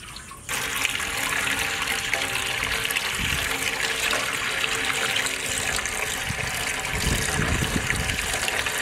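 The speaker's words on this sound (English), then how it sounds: "Water." Water gushes steadily from a tap into a pot in a kitchen, a loud continuous pour starting abruptly and running for several seconds while preparing to boil sweet corn.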